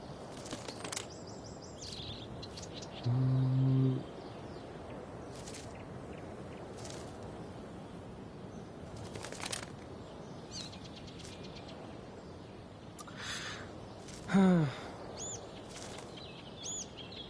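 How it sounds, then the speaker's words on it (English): A bird chirps and calls in Life is Strange: Before the Storm, short tweets standing out twice against quiet outdoor ambience with soft footsteps. "If I can scare that bird far enough away,"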